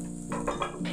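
Capsicum and onion with garlic frying in a pan, a soft sizzle broken by a few quick stirring scrapes in one brief close burst, no voices.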